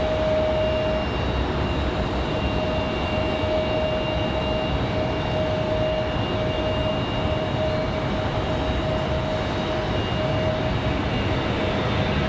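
Airliner taking off from runway 23 right at Raleigh-Durham International Airport in windy weather, a loud, steady jet roar with a thin whining tone, continuous and close with no voices.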